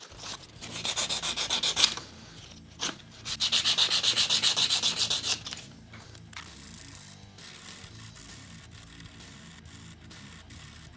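A bone guitar nut is sanded and shaped by hand in two long, close bouts of rapid rhythmic back-and-forth rasping. Quieter handling, tapping and scraping follow.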